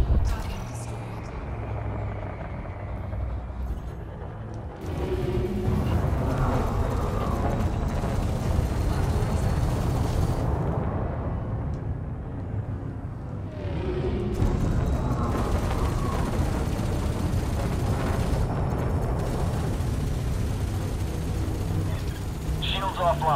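Spaceship combat in the video game Elite Dangerous, with a low rumbling engine drone, blasts and a swelling explosion roar, surging twice over long sustained stretches.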